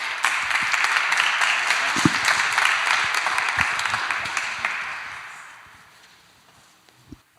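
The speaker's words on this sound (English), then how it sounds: "let's give Makara a round of applause." Audience applause closing a talk at a zero-knowledge cryptography conference, a dense wash of many hands clapping that holds steady, then thins and fades out over the last two seconds.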